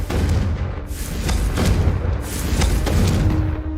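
Confringo and Incendio spell blasts in Hogwarts Legacy: dense, loud fiery booms and crackling bursts follow one another in quick succession over a constant rumbling roar, with no pause between them.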